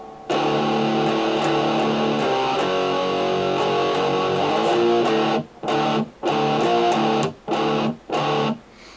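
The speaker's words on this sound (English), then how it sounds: "the distorted riff at the end of verse 2." A distorted electric guitar plays a sustained, gritty riff, then breaks into short chopped stabs separated by brief silences toward the end.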